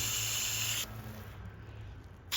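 A steady hiss of water spraying from a retractable hose reel's nozzle on shower setting, loud and close, with a brief change in tone near the start and a sharp hiss at the end.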